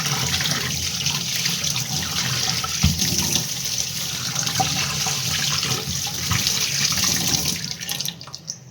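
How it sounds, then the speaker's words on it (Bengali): Tap water runs steadily into a kitchen basin as it is washed, a continuous close hiss and splash with small knocks, tapering off near the end. "তো চলো প্রথমে বেসিন একটু ভালো করে ধুয়ে নেবো"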